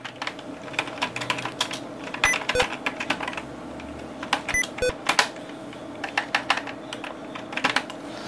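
A channel name being typed on a computer keyboard: quick, irregular clusters of close, crisp key clicks with brief pauses between bursts.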